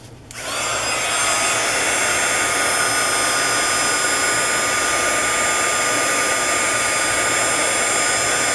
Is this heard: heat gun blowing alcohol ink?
yes